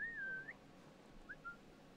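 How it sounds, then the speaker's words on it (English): A whistle in Assassin's Creed Valhalla: one longer wavering tone, then two short faint chirps, quiet and alone. "How many times do you need me to whistle at you?"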